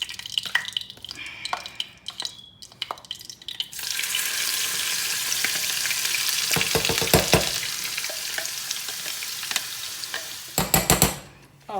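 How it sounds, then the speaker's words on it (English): Frozen peppers, onions, garlic and jalapeno hit a hot pan and burst into a loud, close sizzle, with sharp pops and stirring clatter of a utensil on the pan before and after. "We're gonna go ahead and add our peppers and onions and garlic and jalapeno to it. Since this was frozen, it's going to pop a little"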